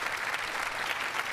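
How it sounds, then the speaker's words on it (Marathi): A studio audience at a Marathi comedy show claps in a brief, even round of applause lasting just over a second, moderately loud and steady with no speech. "जोरदार एकदा टाळ्या त्यांच्यासाठी वाजवा तुम्ही."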